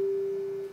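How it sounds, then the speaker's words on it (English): A synthesizer holds a steady pure sine tone with sustain, one unbroken mid-pitched note that stays loud and even before dipping slightly at the end. "So now you can hear somewhat of a sine wave, right?"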